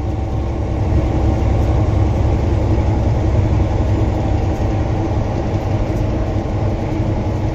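A steady, continuous rumble of a freight tanker train rolling past, with a constant low mechanical drone and no breaks, fairly loud and unchanging throughout.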